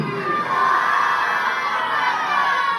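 A large crowd at a religious gathering roars a takbir slogan in unison, a loud sustained shout of many voices that swells and holds for a few seconds.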